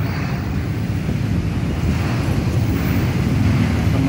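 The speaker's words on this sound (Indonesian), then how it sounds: "Kita lihat airnya sangat deras. Sangat deras, sangat tinggi, dan ada pusaran-pusaran air." Floodwater of the overflowing Ciliwung river rushes and churns beneath a railway bridge, a loud, continuous roar with swirling eddies and wind buffeting throughout.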